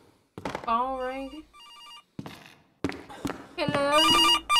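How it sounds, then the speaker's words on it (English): A telephone rings in the horror video game Case: Animatronics, giving two bursts of bright electronic warbling tones separated by a short gap, loud and close, with other game sounds and people talking between the rings. "Phone ring."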